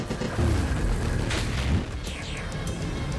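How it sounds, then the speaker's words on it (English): Explosions going off in the chaotic video game Random Access Mayhem, a few deep booming bursts with rumbling low end under other game noise, dense and fairly loud across the stretch. "There's stuff on the floor, there's explosions to dodge."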